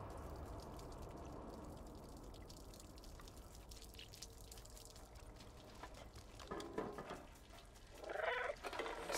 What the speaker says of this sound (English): I'm meowing.